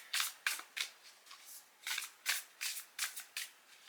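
Prototype oracle cards being shuffled close up, a steady run of about ten crisp riffling bursts at a brisk, even rhythm with nothing else heard.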